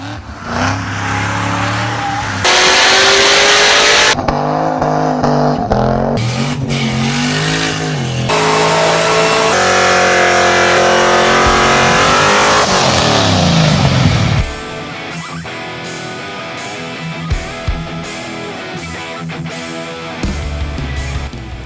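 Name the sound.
C5 Corvette Z06 engine revving on dyno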